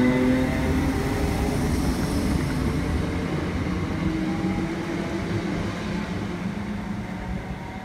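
A Class 319 electric multiple unit pulls out of a station platform, its steady low rumble and wheel noise filling the whole stretch and easing slightly as it draws away, with no voices.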